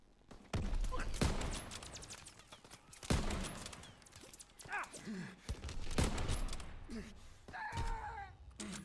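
Bursts of strafing gunfire from the World War II shooter Call of Duty WWII, sharp loud volleys arriving in several irregular waves with gaps between, mixed with gasping and moaning voice sounds.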